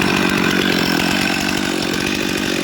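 A chainsaw with a 25-inch bar cuts into a large tree stump on a steep hillside, a loud, close, continuous high revving buzz with no pauses or talking.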